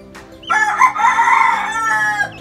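A young Sweater gamefowl stag crows once, a loud, close, drawn-out cock-a-doodle-doo lasting about two seconds, preceded by a brief cluck.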